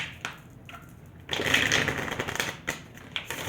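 Close crisp rustle and riffling of cards being shuffled, a few soft taps, then a longer flurry of flicking, with no one speaking.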